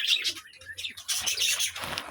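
Small caged birds, parrots and sparrows, chirp and tweet in quick overlapping bursts, fairly close but soft, with no talking.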